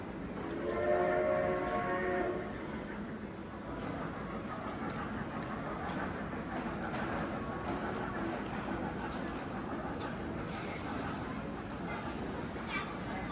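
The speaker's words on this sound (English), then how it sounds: "It's so big it even has its own train." Indoor ride-on train rolling through the Acropolis shopping mall, a steady rumble and clatter with a brief whistle-like tone early on, set against busy mall ambience and voices.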